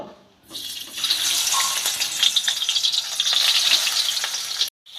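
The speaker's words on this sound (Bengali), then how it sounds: "এবার কই মাছগুলো তেলের মধ্যে দিয়ে আমি ভেজে নেব" Steady, loud sizzling of koi fish frying in hot mustard oil, a continuous crackle that runs almost the whole clip before cutting off abruptly.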